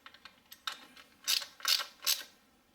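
A hand ratchet snugs valve cover bolts on a Toyota Highlander Hybrid engine, giving several quiet, close clicking bursts with short pauses between them.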